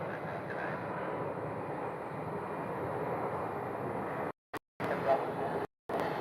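A Boeing 777 airliner passes at an airport, a continuous broad engine roar, moderately distant, with brief dropouts near the end.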